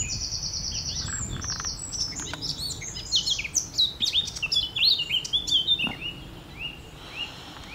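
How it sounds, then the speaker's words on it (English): A blackcap sings a rapid, varied warbling phrase of bright chirps and trills, fairly close and clear, over soft outdoor background noise in May. "I believe that's a black cap."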